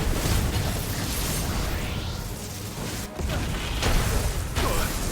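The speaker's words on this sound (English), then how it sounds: "double explosion" Double explosion during a boss fight in the video game Final Fantasy 16: dense, loud blasts and whooshes in a continuous wash of battle noise, with a brief dip before two more bursts.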